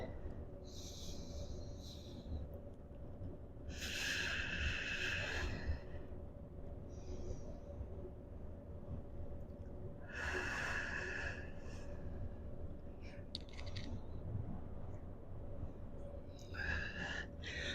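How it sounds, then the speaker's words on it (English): Slow, deep breathing during a yoga calf stretch, with a few long audible inhales and exhales spaced several seconds apart over quiet background hum. "So we'll go ahead and breathe into this one. Let's start the first breath in."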